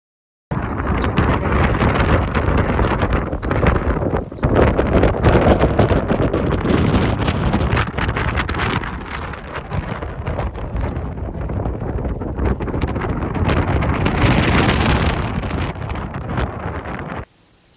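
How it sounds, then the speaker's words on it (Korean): Strong wind gusts across the 228 m summit of Yudalsan mountain in Mokpo, a loud, buffeting roar against the microphone that surges and dips before cutting off abruptly near the end. "바람이 너무 심하게 불어서"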